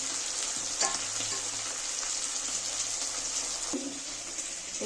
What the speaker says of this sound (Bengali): একটু কড়া করেই ভাজবো মাছগুলো।